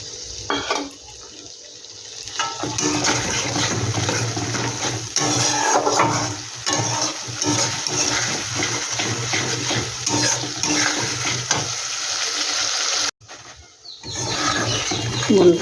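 Water splashes and runs into a spice bowl as it is rinsed in a home kitchen during soybean curry cooking, with clattering bowl and utensil sounds, close and continuous with short pauses.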